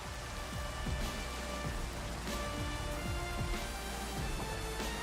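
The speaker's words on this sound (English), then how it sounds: "Oh, great, rain." Steady rain falls in the Minecraft world, a constant dense patter with faint crackles running through, even and unbroken from start to end with no voices over it.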